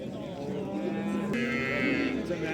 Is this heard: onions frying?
no